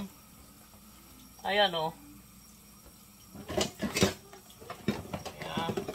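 Dishes being washed at a sink, running water with clinks and clatter of dishes in the second half, after a brief spoken phrase.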